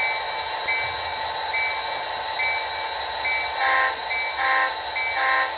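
A train backing slowly down a transfer spur toward a team track, with a steady rolling rumble and a few brief, rising swells of louder rail noise.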